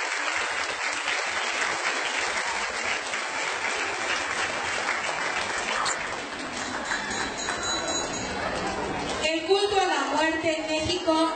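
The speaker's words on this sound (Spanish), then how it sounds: "¡Fuerte los aplausos!" Applause from an audience at a school event in Cosoleacaque, a dense steady wash of clapping that runs throughout, with crowd noise and voices rising near the end.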